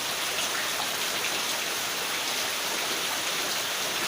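Rain falls in Jogja on a morning after a night of rain, a steady dense patter and wash heard close and continuous, with no talk.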